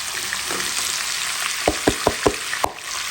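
Onions fry with beef in a hot pan, a steady broadband sizzle with several sharp utensil taps against the pan in quick succession, close and without talking.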